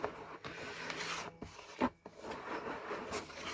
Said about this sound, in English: So I'm going to push it through. This is a pinky riddle.